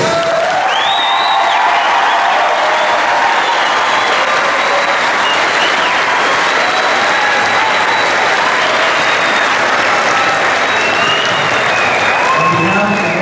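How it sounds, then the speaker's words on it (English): Dense, sustained applause from a large audience at the Gordon Russell Middle School promotion ceremony for the class of 2013, steady and loud throughout with a few whistles and cheers mixed in. "One more round of applause for these kids."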